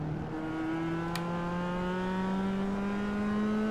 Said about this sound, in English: This car sounds like a video game from an 80s computer system.